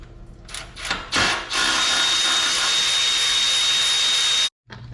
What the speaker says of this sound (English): I'm using power tools to get in here.